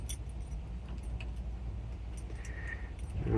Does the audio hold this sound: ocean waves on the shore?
no